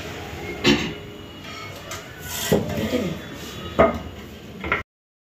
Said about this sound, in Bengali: এবার আমি বন্ধুরা শসাটা কুটে নিচ্ছি।